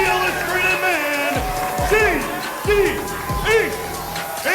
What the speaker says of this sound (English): You hear the crowd coming alive for fan favorite J.D. Inc. and his tag team partner, newcomer, Colt Young.